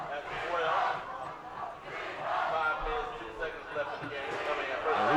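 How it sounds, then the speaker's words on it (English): Cougar fans in the stands at a Blair vs Hawthorne high school football game cheer and scream in a sustained, swelling roar that rises and falls, heard from a distance under a commentator's voice. "they're cheering and screaming here. They're excited."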